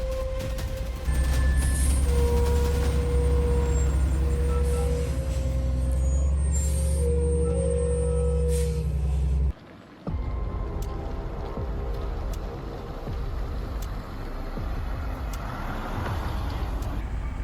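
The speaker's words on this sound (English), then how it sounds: "This truck is no ordinary machine. It's an off-road beast, the ultimate mountain conqueror, river crosser, and terrain tamer." An off-road logging truck hauling timber from deep forest rumbles loudly with a steady heavy engine drone, a sharp air-brake hiss near the middle, then continues rolling with rougher, broadband road noise.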